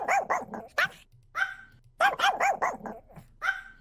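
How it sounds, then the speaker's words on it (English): Four separate dog barks from a video game character, sharp and close, delivered in two groups with brief pauses between them and no talking over them. "We also have 4 unique barks from Lola in here."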